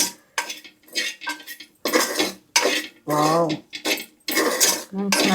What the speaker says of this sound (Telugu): ఓకే, ఒకసారి ఇలా కలుపుకుందాం.